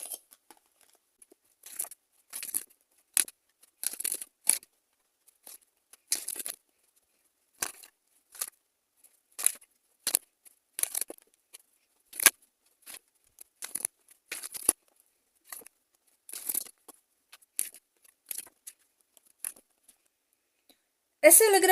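Tarot cards are shuffled and drawn: crisp, quiet flicks and rustles in short, irregular bursts separated by silence, ending with a louder burst of card handling.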